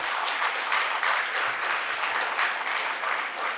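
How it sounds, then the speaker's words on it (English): Students from Nitte Mahalinga College clap vigorously at a youth empowerment seminar. The applause is a steady, full wash of many hands that holds for the entire moment, with no speech on top. "you can show your power by a powerful clap"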